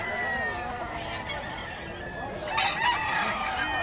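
Sweater gamefowl roosters crowing at a busy pet market in Bocaue, several overlapping crows rising near the end amid cackling and market chatter with people talking nearby.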